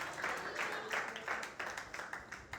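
Applause for Jesus during a Sunday church service, a dense, steady wash of many hands clapping at moderate distance, swelling in repeated bursts without a break.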